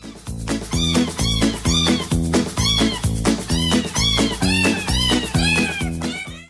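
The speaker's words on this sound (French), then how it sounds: "ils comptent vraiment nous faire croire que les chats sont en train de chanter au micro" Cats meow in a rhythmic, melodic sequence edited into a song, with repeated pitched meows pulsing over a steady beat.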